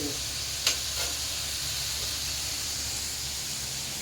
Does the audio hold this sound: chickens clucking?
no